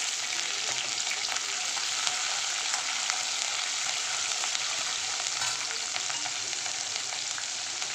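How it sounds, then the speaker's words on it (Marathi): Green chilies hit hot oil with garlic in a pan while cooking lasuni palak, producing a loud, dense, continuous sizzle and crackle close up, with no voice over it. "आता टाकते हिरवी मिरची।"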